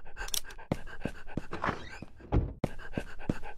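A dog pants rapidly and close by, quick rhythmic breaths with a short whimper-like catch and a soft thump midway, no talking over it.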